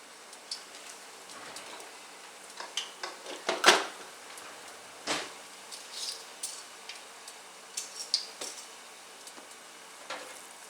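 Tortillas fry in a hot pan with faint sizzling and scattered sharp pops and crackles, quiet and close.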